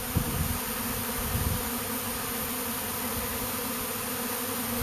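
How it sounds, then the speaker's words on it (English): Dense, droning buzz of a large honeybee swarm filling the air around a custom hive, constant and close, with nearer bees zipping past the listener and no voices. "Man, this is a massive amount of bees."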